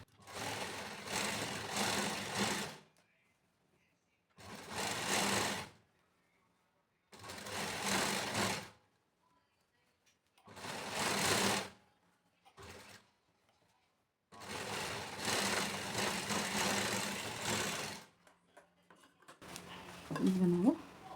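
Sewing machine stitching a lining blouse sleeve, running in five or six separate bursts of a few seconds each with pauses between, a faint clatter near the end.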